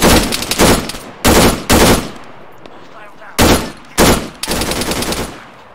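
Enemy machine gun fire rattles in the military shooter video game Arma 3, with several loud, close bursts of rapid shots separated by short pauses, some bursts brief and others sustained.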